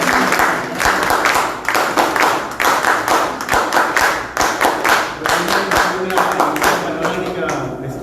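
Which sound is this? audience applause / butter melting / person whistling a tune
audience applause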